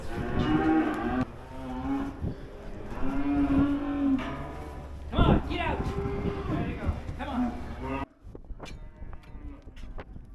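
Several dairy cattle moo loudly and repeatedly, close by inside a barn, in long drawn-out calls, with a voice briefly heard among them.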